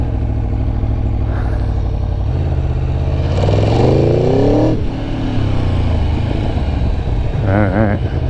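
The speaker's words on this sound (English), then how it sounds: "this thing is like literally like 175 horsepower Tuono V4 beast" Aprilia Tuono V4 1100R Factory, a 2019 naked bike of about 175 horsepower, revs and rides close by, its engine rising and falling through short bursts of acceleration, with brief mechanical clatter and a voice talking over it.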